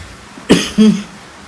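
A person who has fallen ill coughs twice indoors, a sharp close cough followed by a second rougher, throaty one, then quiet.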